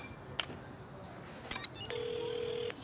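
A mobile phone rings with an incoming call, a short bright electronic tone held for under a second, preceded by faint chime-like notification beeps in a quiet cartoon scene.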